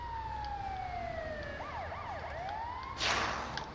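Ambulance siren in the video game GTA V, wailing steadily then switching to a rapid yelp, with a sudden broad burst of noise near the end and road traffic underneath.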